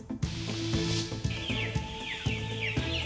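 Many chicks peep and chirp continuously over a droning mechanical hum with rhythmic clanking, like a busy hatchery line in Castilla y León, Spain.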